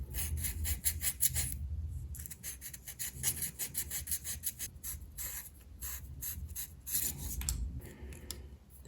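Rhythmic rubbing strokes of sandpaper work down dried filler on a brass part of a 1/200 scale IJN Mikasa model ship, repeated close scratchy passes with short pauses, no talk.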